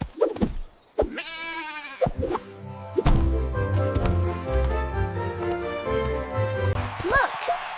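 An animated goat in a children's cartoon animal parade bleats up close a few times over light clopping steps and a steady, playful musical backdrop.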